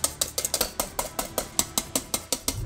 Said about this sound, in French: monter les blancs en neige à la main, c'est hyper chaud